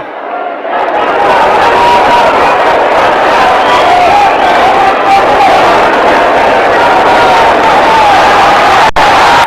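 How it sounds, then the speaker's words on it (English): Boxing crowd at the close of the fifteenth and final round, a loud, sustained swell of applause and cheering from a large arena audience that rises quickly and holds, with a commentator's voice partly over it. "the crowd spontaneously bring out their applause here for these two men"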